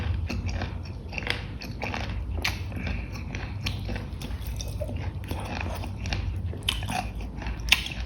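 Close, steady crunchy chewing of firm hed phaso earthstar mushrooms in curry, with repeated crisp bites and squeaky mouth noises continuing throughout.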